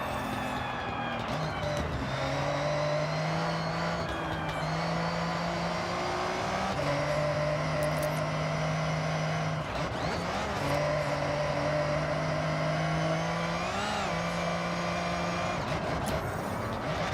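A race car in Forza Horizon with a turbocharged straight-six engine roars continuously, the pitch climbing and dropping through repeated gear shifts at steady, loud volume, with faint tire noise beneath.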